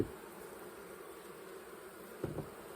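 Honeybees hum around cleaned hive boxes, a soft continuous buzz in the background, broken near the end by a brief knock or handling sound.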